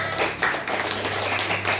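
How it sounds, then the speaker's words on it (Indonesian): A combined class of fifth and sixth graders applauds in a classroom, with quick, dense, steady clapping from many hands, close and fairly loud, over a low background hum. "Tepuk tangan."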